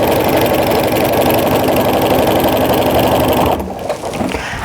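A home sewing machine with a walking foot quilts through layered fabric of a jelly roll tree skirt, running steadily and close with a dense rapid stitching buzz for about three and a half seconds before slowing and stopping.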